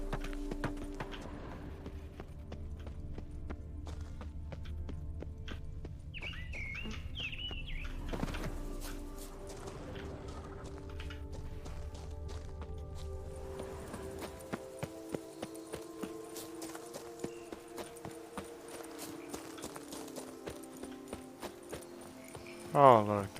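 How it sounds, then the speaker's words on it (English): In The Witcher 3, wild horses' hooves clop faintly at first, then sharpen into a clear, irregular series of hoofbeats in the second half, with game music, bird chirps and a brief bird whistle around them. "Oh look, there's our wild horses"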